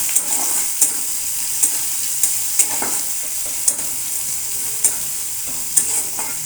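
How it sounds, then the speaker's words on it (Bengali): Onions sizzle steadily in a hot pan while a spoon scrapes and stirs them in regular light knocks about once a second, close and clear with no voices. "এবার ভালো করে ভেজে নেব।"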